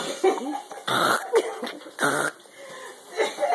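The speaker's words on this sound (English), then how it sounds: "I hear her trying to clear her throat." A few short coughs and throat-clearing bursts, close by, with brief pauses between them and faint background noise.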